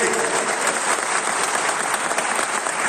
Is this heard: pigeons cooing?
no